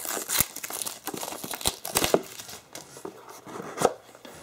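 Earphone packaging being opened, close crinkling and crackling of card and plastic with scattered sharp taps and tearing, in uneven bursts and without speech.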